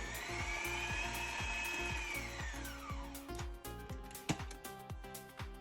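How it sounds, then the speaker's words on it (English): A stand mixer creams pumpkin cake batter, a faint motor whir with a steady rhythmic thumping of the beater that slows and grows uneven toward the end. "lower the machine's head, and we're going to cream everything just until it begins to dissipate"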